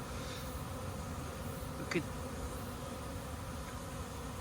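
A steady, low hum of many honeybees buzzing around a hive, continuous and moderately close, with a brief faint click midway.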